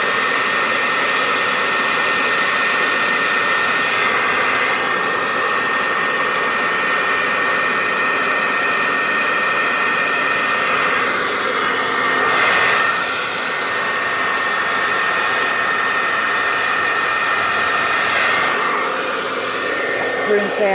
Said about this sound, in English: Princess, she does not like the hair dryer.